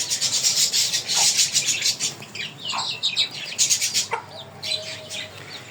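A chicken pecks at fallen porridge, scratchy rubbing and light pecking sounds mixing with occasional soft clucks and chirps nearby, steady and busy throughout.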